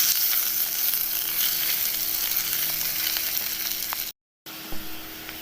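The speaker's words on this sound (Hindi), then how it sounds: "प्याज को हमने गोल्डन ब्राउन होने तक पकाना है, तकरीबन 4 से 5 मिनट लगेंगे मीडियम फ्लेम पर" Onions frying on a medium flame until golden brown, a dense, loud, continuous sizzle that cuts out abruptly for a moment near the end before resuming; no voices.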